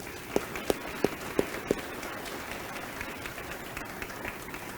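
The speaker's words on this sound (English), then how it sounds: "One more round of applause for our panelists." Rotary club audience applauding the panelists at a He for She forum, a few distinct sharp claps early on over a softer sustained patter of many hands that carries on evenly.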